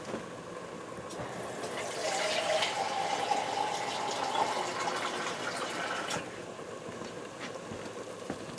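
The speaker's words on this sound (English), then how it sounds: "now that crushed tomato can, I'm going to fill that with water and add that in there" Water filling an emptied crushed tomato can and being poured into a pressure cooker for meatball pasta, a steady gushing stream that swells midway and then tapers.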